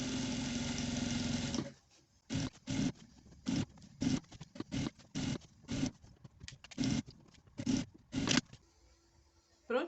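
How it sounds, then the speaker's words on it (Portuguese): A sewing machine stitches around a pinned fabric bag, running in one long continuous hum before breaking into a string of short, evenly spaced bursts, close by and fairly quiet. "Agora a gente vai lá passar a costura em volta dela."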